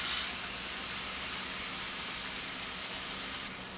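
Blackfish sizzles in a pan of hot olive oil, a steady broadband hiss of frying heard up close and continuous, no one speaking.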